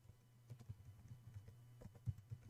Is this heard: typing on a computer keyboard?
yes